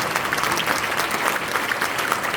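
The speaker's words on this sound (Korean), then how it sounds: "다 같이 일어나셔서 박수 한번 해주시기 바랍니다." Standing assembly gives a dense, steady ovation for newly elected officers at a church denomination's general assembly, continuous many-handed clapping filling the room without a break.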